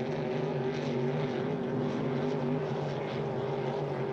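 Hydro350 hydroplane racing boats accelerating through a turn on the race course, a sustained distant droning whine with no talk.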